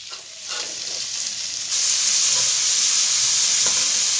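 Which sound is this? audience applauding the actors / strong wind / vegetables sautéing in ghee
vegetables sautéing in ghee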